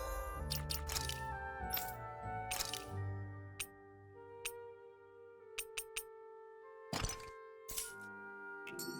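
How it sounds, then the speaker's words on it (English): Metallic hammer strikes ring out in Tales of Arise, sharp clanging hits arriving in irregular clusters with sustained resonant tones ringing between them, moderately loud and free of talk. "always love the sound of hammers banging away"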